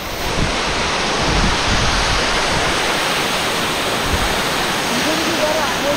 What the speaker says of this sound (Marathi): तर धबधबा कसलो हा बघा, किती उंच हा बघा।